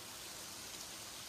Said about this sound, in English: Apologies for the noise. I'm just right under a waterfall.